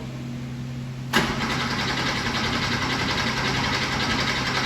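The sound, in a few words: 1986 Porsche 911 Targa engine cranking but not starting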